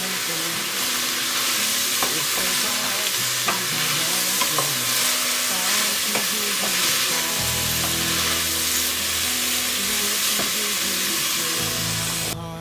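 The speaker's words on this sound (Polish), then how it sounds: "Warzywa się smażą" Vegetables sizzle steadily in a hot pan, close up, with occasional scraping and stirring clatter throughout.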